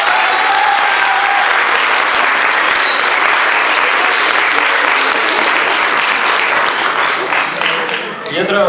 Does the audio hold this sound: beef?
no